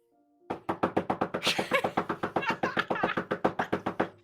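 A rapid series of knocks on a front door in the middle of the night, about twenty quick, loud, evenly spaced raps that continue without pause.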